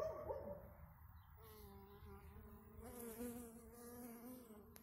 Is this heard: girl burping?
no